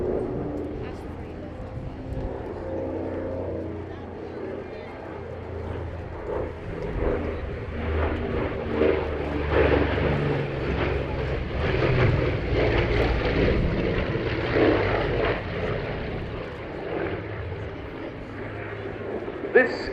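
A Douglas A-26C Invader, a glazed-nose twin piston-engine propeller bomber, drones steadily overhead at a Duxford air show. The engine roar is moderately distant and sustained throughout, with someone talking over it.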